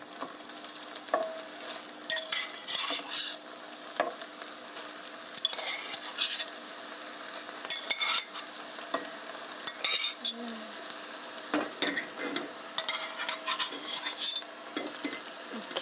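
Spaghetti with shiitake mushrooms stirred in a frying pan, a sizzling bed with repeated scraping and clattering bursts of the utensil against the pan, close and steady, no talk.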